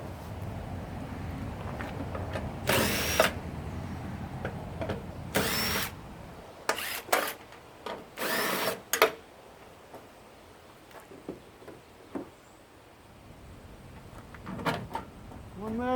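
Short bursts from an impact driver spinning off fasteners on a copper motor during a scrapping teardown, about four loud rattling blasts separated by quieter handling clicks and clatter of parts.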